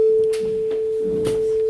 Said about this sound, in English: the compiler compiled a simple program to generate a sine wave and then patched it to your audio interface